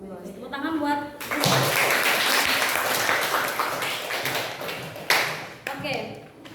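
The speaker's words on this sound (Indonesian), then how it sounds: "Tepuk tangan buat." A classroom group bursts into hand clapping after a short stretch of talk, loud sharp claps filling several seconds before fading, with a voice at the start and end.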